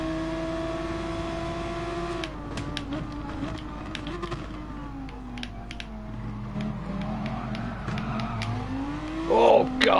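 A Porsche race car engine in Gran Turismo Sport, droning and shifting pitch as the car accelerates and lifts through corners, with brief clicks over it.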